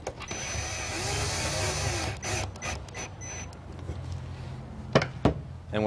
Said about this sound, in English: Take my drill gun, tighten her down good.